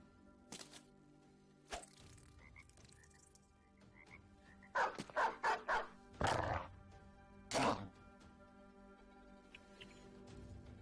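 Dogs in the video game Battle Brothers bark in short bursts amid other game combat sounds, several clustered barks and yelps rising over a quiet synthetic backdrop.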